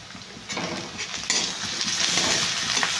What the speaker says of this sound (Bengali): আদা রসুনটা একটু ভেজে নিই,